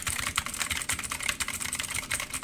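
Rapid continuous typing on an RGB backlit mini mechanical keyboard, with dense, loud, clicky keystrokes in an uneven rhythm, heard close with no voices.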